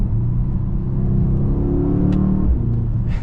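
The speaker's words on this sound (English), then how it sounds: "A little pop on the exhaust," A Mercedes GLS63 AMG luxury SUV accelerating with a deep, rumbling engine note that climbs steadily, then a gear change and a couple of brief sharp exhaust pops near the end, loud and close.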